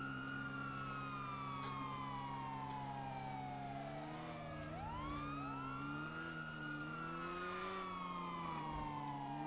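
A police vehicle siren in a roleplay video game wails continuously, sweeping slowly down in pitch and then switching into faster yelping cycles, loud and steady with an engine drone beneath and no talk.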